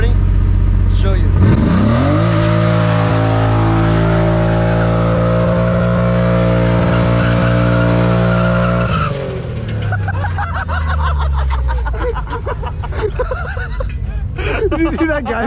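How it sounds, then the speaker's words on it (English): A Nissan 240 with kids in the back does a burnout at a drifting event: the engine holds a loud, steady high rev for several seconds, then drops off into squealing, scrubbing tire noise and crowd chatter. "Ever seen a burnout with kids in the back of a 240?"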